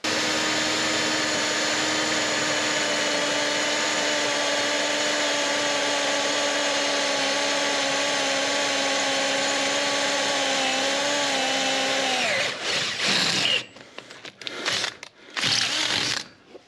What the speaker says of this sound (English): 3/8 drill bit, cordless drill, 1/4 inch plate.